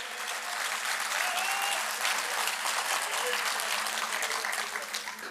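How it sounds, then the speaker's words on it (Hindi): A mushaira poetry gathering in Ludhiana breaks into sustained applause from the audience, a dense wash of clapping that stays even throughout, with faint voices mixed in. "तो एक बार जोरदार तालियां इन सब के लिए।"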